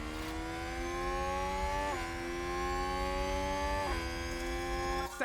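Race cars howl past in F1 Manager 2022, a steady engine drone with two sharp pitch drops as the revs fall under hard braking, and a faint tyre squeal at the end.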